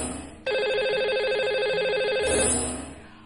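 A telephone rings during a live TV call-in segment as the show dials its lucky caller, a steady electronic ring tone holding for about two seconds, loud and close, with no talking over it.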